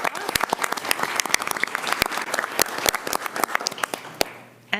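An audience at a school board meeting applauds a student poster contest winner with dense, steady clapping from many hands that stops abruptly at the end.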